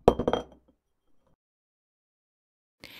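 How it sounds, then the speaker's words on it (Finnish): A glass of milk knocked over onto a breakfast table as a children's audio-story effect: a close, sharp cluster of clinking glass lasting about half a second, followed by silence. "häneltä tietysti kaatui maitolasi pöydälle"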